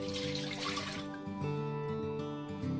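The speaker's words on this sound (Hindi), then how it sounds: "अब हम इसमें पानी ऐड कर देंगे" Water is poured into a pressure cooker of kidney beans sitting on a lit gas stove, a short splashing rush that fades into a steady low humming tone.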